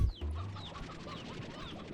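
Hens clucking in the video game Slime Rancher 2, with several short, overlapping clucks and chirps from a crowd of birds at a moderate level, and a brief thump at the start.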